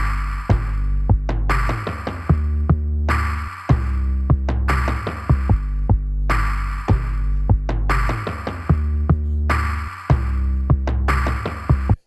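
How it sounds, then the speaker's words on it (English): Programmed drum beat built from a deep booming 808 bass, a kick layered with it, a distorted hi-hat and rolling toms, looping in a steady repeating pattern with brief gaps between phrases, loud and up close. "So you have your 808 and I have a kick together with the 808 and I have an actual hi-hat"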